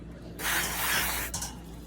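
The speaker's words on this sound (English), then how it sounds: "Spray it down with lots and lots of spray." Cooking spray hisses from a can into a pie iron at a backyard campsite, one close, steady burst lasting about a second with a brief puff after, no talking.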